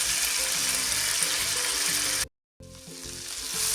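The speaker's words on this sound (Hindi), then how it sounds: "टमाटर को हम सौते कर रहे हैं।" Tomatoes sauté in a pan with a loud, dense, continuous sizzle and frying hiss. It breaks off in a brief total silence, then resumes just as strongly.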